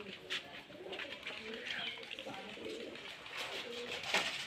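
Rajshahi Giribaz tumbler pigeons coo softly in a scattered, overlapping chorus, faint and somewhat distant, with a voice talking over them at times.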